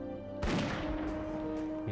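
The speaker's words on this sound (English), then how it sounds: "Try to pull him down here with a gunshot. He missed." A gunshot fires in World of Warcraft during hardcore gameplay, one sudden loud blast with a short rumbling tail, heard over an ongoing game music bed.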